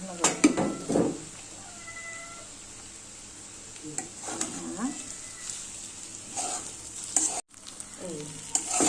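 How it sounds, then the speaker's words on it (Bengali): Fried brain and potatoes are stirred together in a frying pan, a spoon scraping in repeated bursts over a soft sizzle, with a cat meowing briefly nearby. "এই যে মগজ ভাজিটা দিয়ে এটাকে নাড়াচাড়া করবো।"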